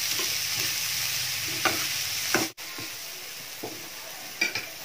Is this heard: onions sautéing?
yes